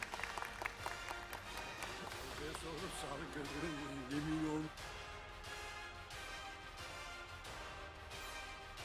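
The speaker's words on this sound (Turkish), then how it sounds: "kuvvetli alkışlarınızla teşekkür ediyoruz" Audience at a university graduation ceremony applauds the graduates, a busy wash of clapping mixed with voices and music-like tones, loud at first then settling to a steadier, slightly softer clapping.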